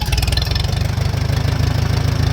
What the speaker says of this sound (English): I'm going to start the tractor here, okay?